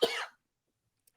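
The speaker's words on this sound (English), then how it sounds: "You're coughing?" A single short, close cough from a man with a sore throat, followed by silence.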